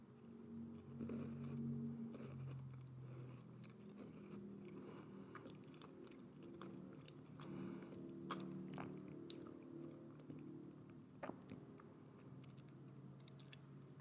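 Close, quiet chewing of a cheese-flavored Japanese snack, with soft crunches, bites and wet mouth sounds in an irregular rhythm, faint and intimate with no talking.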